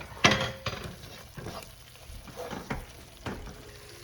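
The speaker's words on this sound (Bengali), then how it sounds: "এখন এই মশলাগুলো একটু ভালো করে কষে নিতে হবে" Spices and salt being sautéed in a pan, a low sizzle punctuated by several sharp spatula scrapes and knocks at irregular intervals, close by.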